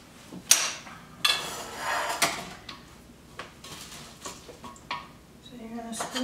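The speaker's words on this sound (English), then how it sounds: "So you're going to spoon it in, just like this." Sticky chocolate nest mixture is spooned into a metal muffin pan, producing irregular clacks and scrapes of the spoon against metal, close and sharp, with a voice speaking between them.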